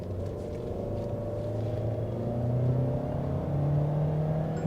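Mahindra XUV 700 AX7L SUV accelerating past 100 km/h, a steady engine and road drone with a tone rising gradually and smoothly, heard from inside the cabin with no talk.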